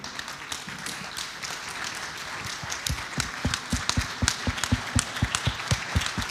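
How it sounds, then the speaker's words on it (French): Audience standing to applaud the president and board at a welcome address in Morocco, loose scattered clapping building into sharper, denser individual claps toward the end, moderately close. "je vous demande deux choses. La première, c'est de vous lever, d'applaudir le président et l'ensemble du bureau"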